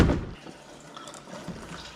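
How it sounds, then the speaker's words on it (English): Gasoline poured from a gas can into the fuel tank of a Squarebody Chevy pickup, a soft trickling liquid flow after a brief louder splash, close and without talk. "throw some gas in the tank"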